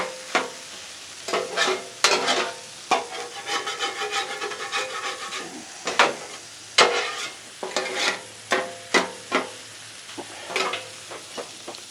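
Potatoes sizzle on a griddle as a spatula scrapes and stirs them in repeated irregular strokes, close and crisp over a faint background hiss.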